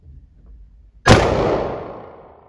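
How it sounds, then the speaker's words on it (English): A single pump-action shotgun blast at an indoor shooting range in Prague: a sharp, loud crack followed by a long reverberant tail, preceded by faint room noise. "So left hand pump. Okay, aim to the target and shoot."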